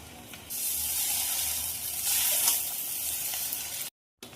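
Chow mein with scrambled egg fries in a wok, a steady loud sizzle that swells as the noodles and egg are stirred, then cuts off briefly near the end.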